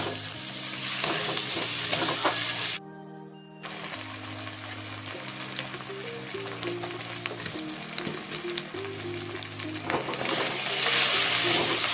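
Spices with cumin powder stir-fried in a pan for a cauliflower curry: a steady sizzle and scraping stir carry on under loud background music, dropping away briefly partway through before returning.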